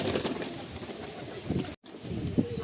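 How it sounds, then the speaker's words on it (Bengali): Laldom pigeons in a crowded loft coo softly and steadily, with a brief gap partway through and a closer, louder coo near the end. "এই কালদম থেকে এই লালদম পায়রা আছে"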